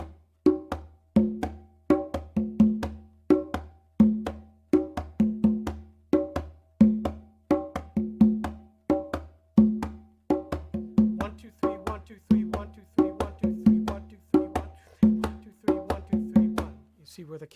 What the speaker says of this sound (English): So the basic Nanigo rhythm, the most basic one, would sound like this.